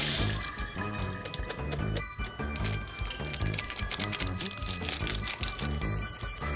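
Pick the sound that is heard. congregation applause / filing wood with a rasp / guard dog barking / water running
water running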